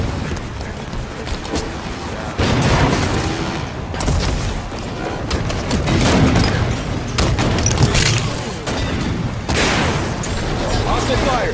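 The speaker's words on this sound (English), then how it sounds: "Hostile fire!" Gunfire in the video game Halo 5: Guardians comes in loud, sharp bursts and booming impacts that repeat every second or two over a continuous battle din, with game voices mixed in.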